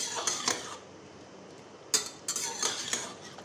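A spoon stirs cooked mutton curry in a pressure cooker, with scraping, clinking strokes against the metal pot in short irregular bursts.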